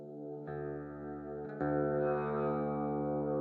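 A Walrus Audio Slö ambient reverb pedal with its decay turned up turns guitar into a sustained, lush wash that swells and layers at a quiet level, with no voices.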